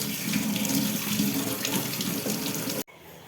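Cut potato fries rinsed under a running kitchen tap, a steady close hiss of flowing water splashing into the sink that stops abruptly near the end.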